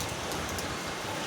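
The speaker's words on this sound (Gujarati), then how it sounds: "આજે તમને બતાવું મારા ભાવનગરમાં કેટલો વરસાદ આવે છે" Heavy rain in Bhavnagar falls as a steady, dense hiss of drops, uniform and fairly close, with no voices.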